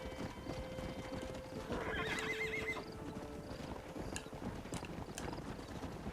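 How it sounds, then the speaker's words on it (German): A panicking horse in Red Dead Redemption on Xbox 360 whinnies in a loud, shrill burst around the second mark, while steady clip-clopping hooves run throughout over a low game ambience. "Irgendwie dein Pferd bricht doch voll in Panik aus"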